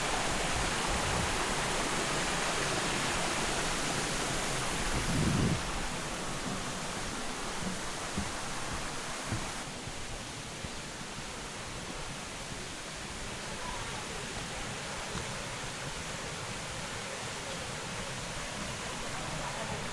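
A mountain valley stream on Suraksan in Seoul flows with a steady, broad rushing wash that fills the whole stretch, holding even with slight shifts in intensity.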